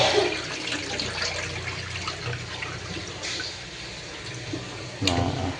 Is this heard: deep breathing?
no